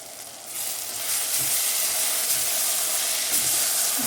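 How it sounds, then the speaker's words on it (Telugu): Tender tamarind leaves dropped into frying onion and tomato for a mutton curry, a steady close sizzle that swells after the first second and holds, with a few soft stirring knocks. "ఇప్పుడు మనం ఇందులో చింత చిగురు వేసేస్తున్నాం"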